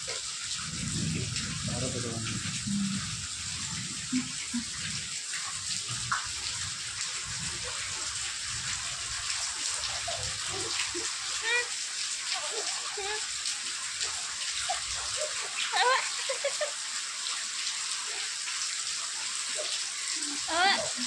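Morning rain falls in a steady, even wash of water noise throughout, with voices talking over it now and then.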